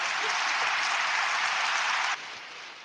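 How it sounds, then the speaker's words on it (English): Studio applause, a bright steady burst of clapping that holds level and then drops abruptly to a quieter wash for the final moments, with no voices over it. "I'm going to give him a round of applause."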